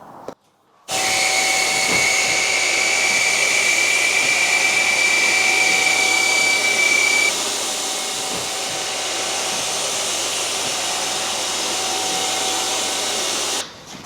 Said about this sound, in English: As soon as he turns that Hoover on, that string will just disappear up.